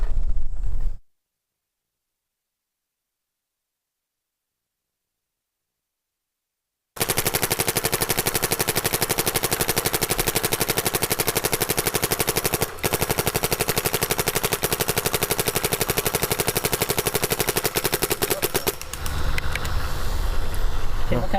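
Planet Eclipse Ego 10 paintball marker firing in rapid, continuous bursts for about twelve seconds after a short silent gap, loud and close, with brief quieter moments at the start and end.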